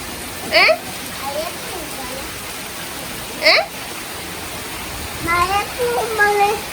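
Heavy rain falls as a steady broadband wash throughout, with people talking and calling out over it.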